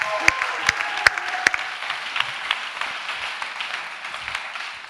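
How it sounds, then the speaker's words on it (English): Applause from the audience at the Kickstart Innovation closing ceremony in 2022 rises as sustained clapping from many hands, with a few loud individual claps standing out near the start, dense and continuous throughout. "And now again, a big applause for Katka Litzing."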